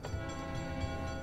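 Train in the Sim City video game, a steady rumbling rail sound with a sustained horn-like drone, loud and continuous with no talking.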